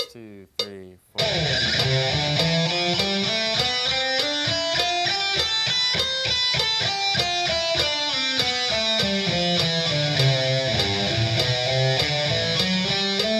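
Electric guitar climbs and descends a pentatonic scale connected across the neck, in rapid steady notes with a slightly driven tone, loud and close, running without a break after a brief opening gap.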